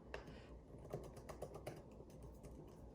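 Typing on an Apple Magic Keyboard for the iPad Pro 2020 gives a quick run of soft, low-travel key clicks, close and quiet, with irregular spacing and no voices.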